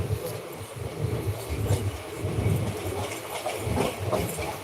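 Continuous low rumble of a train rolling along the tracks, with rhythmic clattering from the wheels, close and fairly loud throughout.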